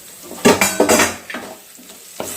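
Potatoes frying in a pan while being stirred, giving metallic scrapes and clanks with a soft sizzle beneath, several sharp bursts close together and then a few scattered knocks.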